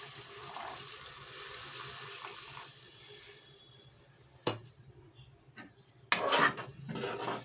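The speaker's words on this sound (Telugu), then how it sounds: "కొద్దిగా వాటర్ పోసుకున్నాం" Water streams and splashes into a pot of ridge gourd and dried fish curry for a few seconds, then quieter rustling, a sharp knock, and a louder burst of clattering at the end.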